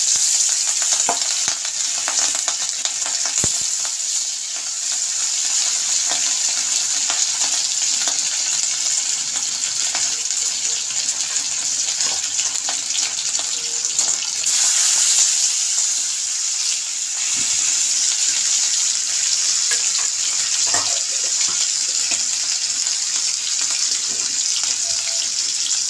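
Pieces of hilsa fish rubbed with salt and turmeric frying in hot oil, a continuous close hiss and sizzle with occasional faint clinks and stirring noises.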